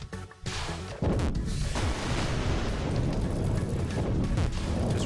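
Red fruit exploding repeatedly in the platform game I Wanna Call Me It, a dense, loud, continuous barrage of booming blasts that run together after a sharp onset.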